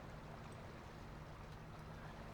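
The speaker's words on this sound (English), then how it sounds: "I can hear the sound of water even though we are way, way, way up here" A waterfall in the Satisfactory video game, heard from far up high: a faint, steady rushing wash of water with no breaks.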